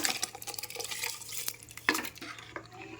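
Rice being stirred into boiling water in a pot for ghee rice, with close scraping and clinking of a utensil against the pot in irregular strokes and a soft bubbling underneath, no talk.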